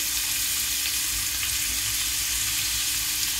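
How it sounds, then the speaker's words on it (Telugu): Green chillies frying in a pan of hot oil for a stuffed brinjal curry, a loud, continuous close-up sizzle with no pauses and no talking. "చూడండి, కాస్త వేయించుకోవాలి."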